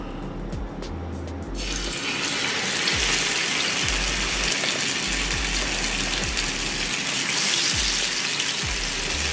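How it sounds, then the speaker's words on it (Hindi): Masala-coated rohu fish slid into hot oil in a frying pan sets off a sudden, dense sizzle after a quiet second, then crackles steadily over a faint low hum. "अब यहाँ पे मैंने फ्राई पैन पे तेल डाल के गरम कर ली हूँ तो तेल हमारा हो गया है गरम अब हम डालेंगे मच्छी"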